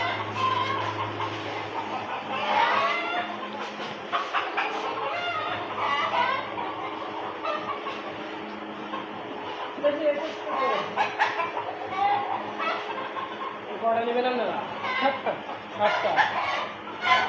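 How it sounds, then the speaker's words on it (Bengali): Many chickens cluck and squawk continuously in a noisy poultry shed in Saudi Arabia, over the steady hum of an air cooler, with a person talking at times. "এখানে অনেক মুরগির চেঁচামেচি"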